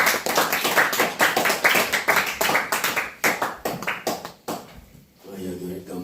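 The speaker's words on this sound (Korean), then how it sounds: "큰 박수로 환영해 주시기 바랍니다." A seated audience at a Korean church lecture gives a lively round of applause welcoming a guest speaker, dense close clapping that thins out after about five seconds, followed by a voice beginning to talk.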